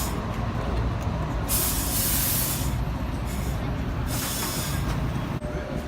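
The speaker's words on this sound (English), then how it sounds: "How about an East Midlands Trains tram?" An East Midlands Trains-liveried tram arrives at a station stop, a steady low rumble with bursts of hissing air-brake release rising and falling across the clip, loud and close.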